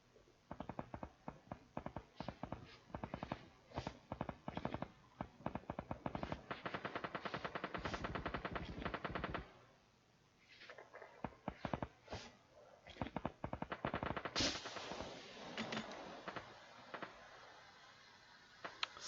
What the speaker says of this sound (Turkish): Nereden sıktığını görsem mi? Dışarıdan sıkıyor herhalde.